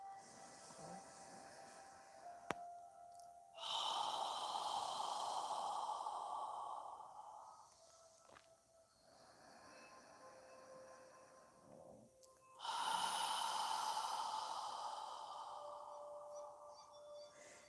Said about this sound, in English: as you exhale, imagine you're fogging a mirror with your breath on the exhale